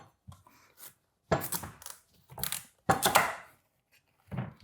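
A knife crunches and thunks through a butternut squash on a cutting board, a few separate heavy chops and cracks with quiet pauses between, close and fairly soft.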